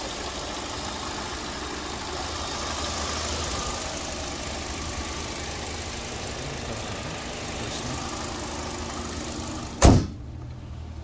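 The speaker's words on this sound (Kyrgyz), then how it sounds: "Мотор жакшы эле иштейт." A 2017 Hyundai Sonata gas-fuelled car idles with a low, steady engine hum close by, ending in a sharp thump like a door closing near the end.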